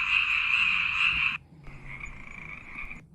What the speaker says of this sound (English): Frog Ribbit.